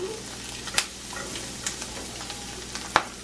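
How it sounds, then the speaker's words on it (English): Butter sizzles and fries steadily in a pan during breakfast sandwich cooking, with a few sharp clinks and scrapes from utensils over the constant hiss. "We're going to go ahead and put a little more butter in the pan for the next side."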